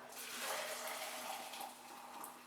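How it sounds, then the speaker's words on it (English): Water pours steadily into a beer brewing kettle, a continuous soft hissing splash at low level, without talk. "Now, I need 2 kettles when I do this amount of beer."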